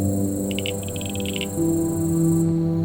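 Steady outdoor chorus of reed insects and frogs by the water's edge, with a continuous drone, plus a brief bright burst of rapid chirping pulses partway through; no talking.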